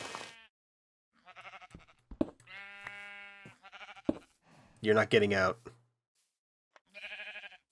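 Sheep in the farming game Craft Arcanum let out several wavering bleats, one long and clear in the middle, alternating with someone talking over the gameplay.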